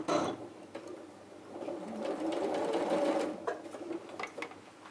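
A sewing machine fitted with a quarter-inch foot stitches fabric in a continuous mechanical whir, rising after a brief start, then breaking into shorter bursts near the end.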